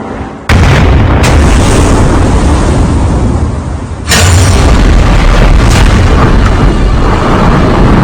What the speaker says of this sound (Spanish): Lo hemos llenado de una pólvora negra similar a la empleada en la época y hemos activado la explosión